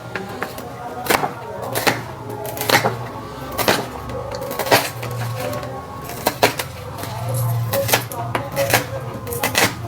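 An onion is chopped on a board with a knife, giving close, irregular knocks and taps in quick bursts over a low background hum.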